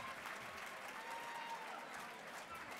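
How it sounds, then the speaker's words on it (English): Sustained applause from an auction audience right after a lot is sold at a landmarks celebration, steady dense clapping throughout with faint crowd murmur. "Give her a big round of applause."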